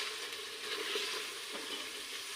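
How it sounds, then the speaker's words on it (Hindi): Beef karahi masala frying in ghee, a steady dense sizzle with soft crackle held at an even level throughout, close and alone. "तब तक आपने इसको भूनना है।"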